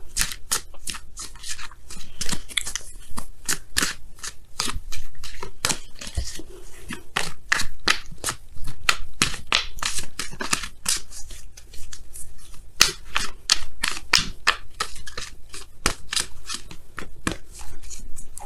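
Tarot oracle cards shuffled and pulled from the deck, a long run of rapid crisp riffling flicks and card snaps, close and steady for the whole stretch, with no talking.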